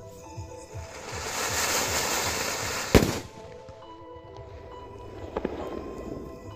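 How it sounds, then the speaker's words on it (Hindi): A single sharp Diwali firecracker bang cracks out after a stretch of hissing fizz, followed by quieter pops and outdoor ambience. "सीता गीता वाला पटाखा था काफी ज्यादा यूनिक था और काफी खतरनाक धमाका किया"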